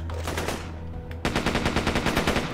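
A submachine gun in the video game Dex fires, first muffled shots under game noise, then a loud rapid burst of evenly spaced rounds for over a second.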